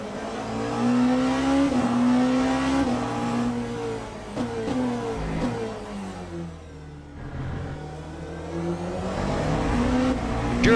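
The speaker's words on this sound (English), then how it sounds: "you can just hear the engines banging out" Race car engines and motorbikes at Daytona droning and revving at a distance, pitch rising and falling as they accelerate, continuous and moderately loud with no talking.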